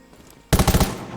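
Rapid automatic gunfire from the Undawn video game erupts suddenly after a quiet start, a tight burst of about six loud, punchy shots in quick rhythm that then rings out.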